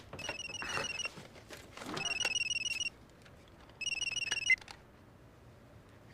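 A telephone hidden in a purse rings in three separate electronic bursts of trilling tones, with short pauses between them. The rings are clear and fairly close, and no one speaks.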